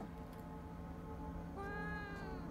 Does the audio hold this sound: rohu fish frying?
no